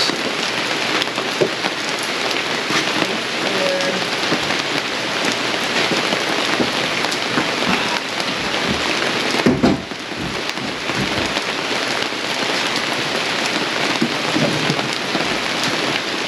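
Steady rain pours down continuously at an RV campsite, a dense hiss of drops hitting surfaces, with a brief low rumble near the middle.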